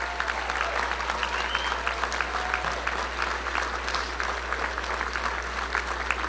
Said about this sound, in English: Can we give them a round of applause too?